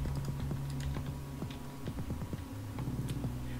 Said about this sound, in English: So I switched over to the mouse and keyboard.